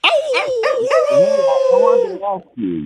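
Several dogs bark and howl together close by, with drawn-out wavering howls mixed with yips and short barks.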